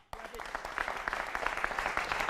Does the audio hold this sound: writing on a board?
no